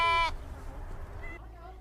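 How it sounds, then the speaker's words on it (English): A white sheep on a farm gives a short, loud, wavering bleat at the start, followed by quieter farmyard background. "Hello, white sheep."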